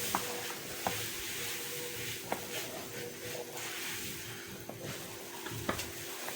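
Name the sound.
stirring homemade honey mixture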